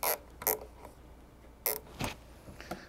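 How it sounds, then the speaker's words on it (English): Plastic zip tie ratcheting tight to fasten a rag to a fridge door, a few sharp creaky zips and clicks in short bursts heard up close, with no voices. "I'm going to take the next zip tie, and that's the one that I'm going to use to attach it to the door"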